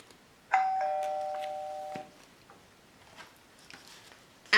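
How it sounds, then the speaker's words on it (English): Household doorbell chiming once, a bright two-tone ding-dong that rings out for about a second and a half before stopping, followed by quiet room noise and a faint tap. "as the doorbell rang"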